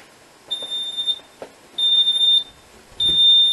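Neutronic Type 2B fire alarm system sounding its alarm: a high electronic beeping tone coming in three bursts of about a second each, separated by quiet gaps, fairly loud and close.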